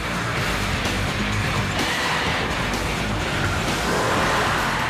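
A BMW M6 with its high-revving V10 roars at over 200 km/h down a racetrack back straight, a loud, continuous engine and wind roar with no talk over it.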